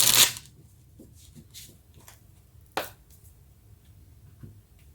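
Tarot cards shuffled to draw a clarifying card, a brief riffle of cards at the start, then sparse soft taps and one sharp card snap midway.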